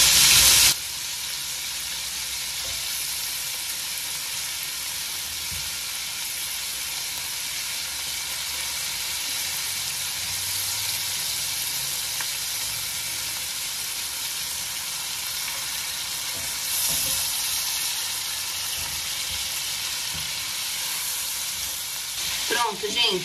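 Shrimp fry in a hot pan, giving a loud, steady sizzle with constant crackling and hiss that continues for the whole stretch, with occasional stirring sounds and no talking.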